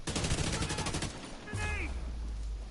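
Heavy rapid gunfire crackles in a Division 2 firefight, with dense overlapping bursts at close range. A voice briefly calls out over the shooting partway through.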